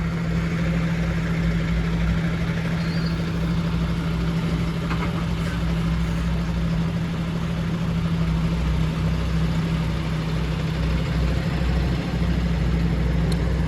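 A 1991 Jaguar XJS coupe's 5.3-litre V12 runs at a steady, smooth idle with a low, even hum, continuous and close, and no voices over it.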